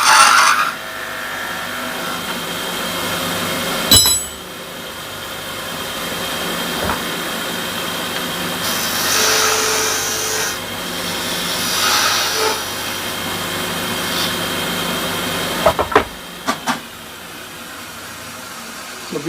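On a wood lathe, a sharpened wrench used as a sizing tool scrapes a spinning wooden tenon for a napkin holder, giving a continuous hum and rasping cut with scraping surges and a few sharp knocks.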